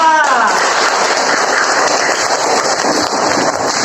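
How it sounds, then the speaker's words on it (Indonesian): A classroom full of students applauds a presenting group, a loud, dense burst of clapping that starts suddenly and holds steady throughout. "Tepuk tangan untuk kelompok 3."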